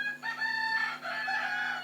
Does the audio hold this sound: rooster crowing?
yes